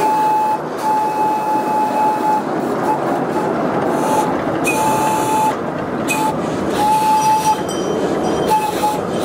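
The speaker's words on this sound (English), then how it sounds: "No wonder Walt Disney was obsessed with having his own train in his backyard." A ride-on backyard steam train runs along its track, rolling loud and steady up close for the whole stretch, with recurring tonal squeals or whistles and a few short clunks over the constant rumble.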